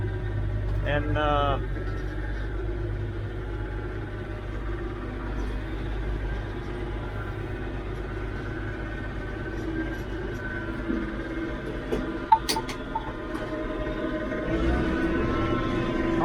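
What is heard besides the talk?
Massey Ferguson 1105 tractor engine idling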